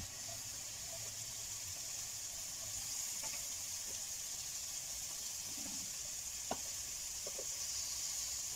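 Ground meat (giniling) cooking in a pan with oil for a spaghetti sauce: a faint, steady hiss of sizzling with a few light clicks and clinks of utensils.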